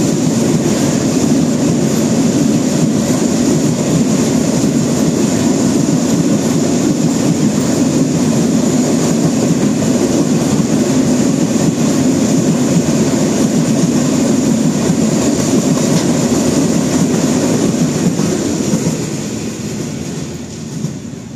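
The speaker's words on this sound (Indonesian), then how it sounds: "ini yang melintas adalah kereta api 3671 Simpang Sari kosongan dari Simpang tujuan akhir Banjarsari." An empty freight train rumbles past loudly and steadily, a continuous clatter and roar that eases off slightly at the very end.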